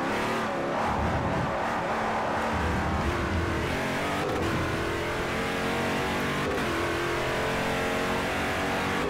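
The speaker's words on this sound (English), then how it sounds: "this car sounds more like a Corvette than a P1 car. Well, it is Chevy powered" A Chevy-powered LMP2 prototype race car in Forza Motorsport 4 gives a loud, unbroken engine roar at speed, close and steady, with a couple of brief clicks from gear changes and no voices.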